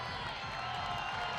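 A crowd cheers and claps for a climber at the 2019 IFSC World Cup bouldering finals in Moscow, a quiet, steady wash of applause and shouts with no break.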